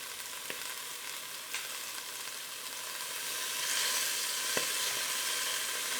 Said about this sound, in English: You just sear them in the bottom of a pot